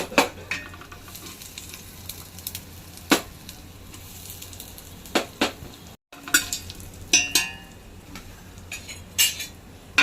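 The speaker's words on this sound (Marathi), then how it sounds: "आता ह्याच्यात पाव चमचा आपण हिंग टाकूयात" Asafoetida dropped into hot frying oil for wedding-style masale bhat, with a low sizzle beneath sharp, scattered scrapes and clinks of a spoon stirring in the pan, close by and without speech.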